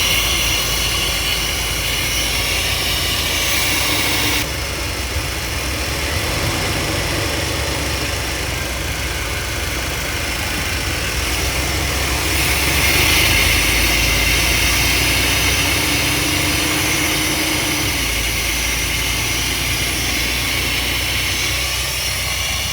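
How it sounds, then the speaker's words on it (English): A 1992 Chevrolet conversion van's engine, back running after sitting nearly a decade, gives a steady, loud, broadband roar with a slight swell midway and no talk over it. "Engine's running."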